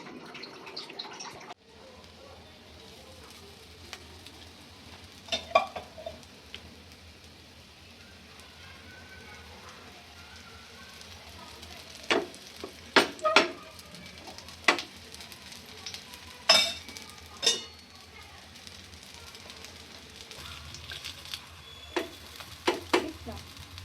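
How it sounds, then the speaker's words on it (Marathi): Aloo tikki potato patties shallow fry in a pan with a steady, rain-like sizzle, punctuated by louder crackles and scraping as they are moved, with faint voices at times. "तर आता मी ह्यांना शॅलो फ्राय करणार आहे."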